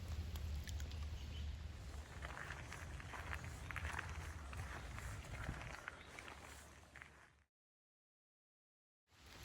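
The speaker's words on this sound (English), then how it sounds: "We're walking through the woods in the rain, but we're not getting wet much because of all the leaves" Footsteps crunch along a wooded trail in the rain with steady patter under a leafy canopy in Shenandoah or New River Gorge country, continuous and close for about seven seconds before the sound cuts out.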